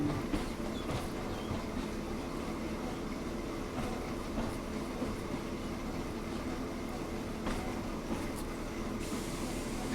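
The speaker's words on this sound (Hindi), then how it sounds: "वैसे ट्रेन वघई तक जाती है और कुछ ऐसा दिखता है वघई रेलवे स्टेशन।" A narrow gauge train stands at Waghai railway station. A steady, fairly loud rumble of rail cars and machinery runs throughout, broken by faint clicks and knocks, with no voices.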